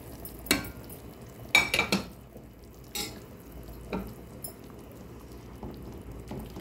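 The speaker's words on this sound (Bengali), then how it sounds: "এখন এখানে মাছটা দিয়ে দেব।" Pieces of hilsa fish going into a simmering pan of ridge gourd curry, a few sharp knocks and clinks of utensils against the pan over a low bubbling background, close and moderately quiet, with no talking.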